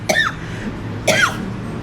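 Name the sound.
cough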